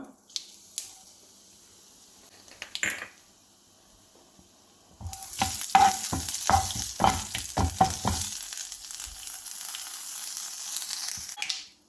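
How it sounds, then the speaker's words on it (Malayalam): Oil sizzles steadily as mustard seeds crackle and pop in quick bursts, with a brief stir near the start and a louder burst of popping later on. "കടുക് പൊട്ടി വരുന്നുണ്ട്"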